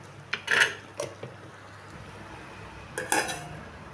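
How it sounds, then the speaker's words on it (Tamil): A lid set on a cooking pot of fish curry with drumstick pieces, a few sharp metallic clinks and clatters in quick succession, then a short pause and another clink of metal on metal. "முருங்கைக்காய் மீன் எல்லாம் சேர்த்தாச்சு இப்போ மூடி போட்டு வச்சிடலாம்"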